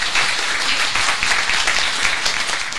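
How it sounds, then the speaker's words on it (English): Steady applause from a meetup audience gathered for a Notion event in Paris, a dense, even wash of clapping that holds at full strength throughout with no voices over it. "A round of applause for John."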